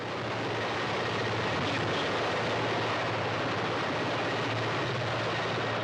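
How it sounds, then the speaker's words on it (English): Helicopters landing at a Soyuz capsule recovery site, a loud continuous rotor and engine roar filling the whole stretch, steady and close with no talk over it. "The helicopters landing in a slower sequential fashion than usual"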